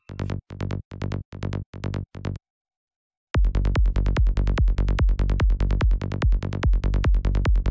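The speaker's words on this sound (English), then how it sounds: "is going to be just a simple bass layered with a sine wave" Simple synth bass from Xfer Serum layered with a sine wave, short staccato notes pulsing in a steady rhythm, a brief silent gap, then heavier, fuller repeated bass hits, loud and up close.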